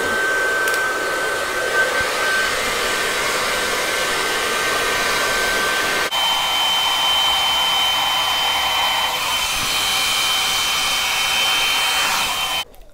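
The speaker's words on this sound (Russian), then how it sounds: "Пока я сушила волосы," A hair dryer runs continuously as hair is dried, a loud, steady close whooshing roar that shifts pitch slightly midway and cuts off at the very end.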